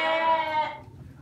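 A breeding sheep gives a single short, close bleat with a wavering, nasal tone that fades out after about a second.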